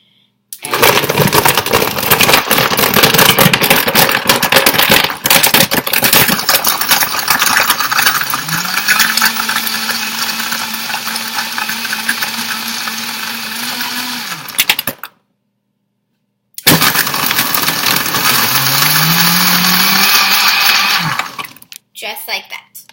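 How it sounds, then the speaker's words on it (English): A Vitamix blender whirs loudly through a Shakeology shake with water and ice, a dense roar with a rising motor tone, cutting out briefly before a second burst. "And then I put it onto my handy dandy blender."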